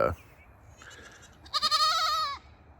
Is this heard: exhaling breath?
no